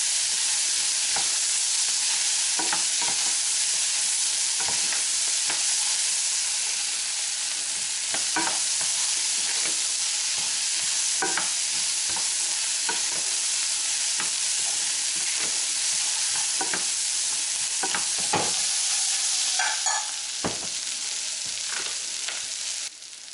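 Bacon jam sizzles steadily in a frying pan for a long stretch, broken by repeated scraping strokes of a utensil stirring it, close and fairly loud with no voices.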